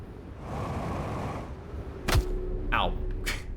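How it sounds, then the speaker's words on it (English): A cannon fires in the game Outer Wilds at the Southern Observatory, a sharp boom followed by a descending whoosh and a second swept burst over a low rumbling ambience. "It's a cannon."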